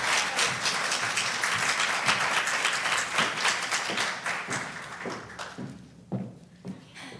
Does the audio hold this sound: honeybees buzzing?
no